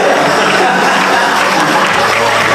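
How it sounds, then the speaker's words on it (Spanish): Crowd at a comic convention costume contest clapping and cheering for a Batman costume, a dense, steady burst of applause filling the space with no pauses. "un aplauso para él"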